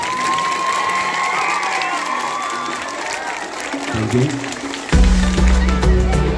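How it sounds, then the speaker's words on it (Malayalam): An Indigenous Peoples Day celebration crowd claps and cheers while a guest is honoured, with whistle-like tones early on, then the clapping and shouting swell louder toward the end. "എല്ലാവരും ഒന്നുകൂടെ നല്ലൊരു കയ്യടി."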